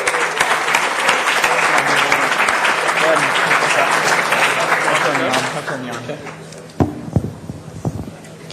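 Applause from an event audience for the performing group Cut to Fit, a dense, steady roar of clapping that runs loud for about six seconds, then fades into scattered claps and a few voices.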